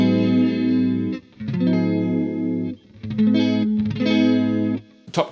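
A guitar runs through a Red Witch Synthotron III analog chorus pedal built on a bucket-brigade chip, playing sustained chords and notes in several phrases with a shimmering modulated tone. No talking, and the last chord ends in a short sharp noise.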